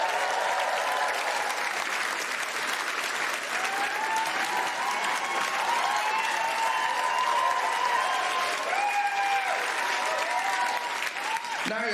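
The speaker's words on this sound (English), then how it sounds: "A round of applause, please, for my Pasty Museum." A stand-up comedy crowd applauds steadily and loudly for the full stretch, dense clapping with a few cheers and whoops rising over it, no break in the noise.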